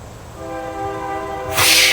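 A passing train gives a steady horn-like tone with stacked harmonics, then a loud broadband rush of wheels and wind builds in close as it goes by.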